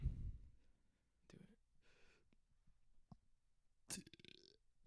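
A man burps on command, a small, quiet eructation among soft breathy sounds and low whispering, followed by a sharper crackling burst.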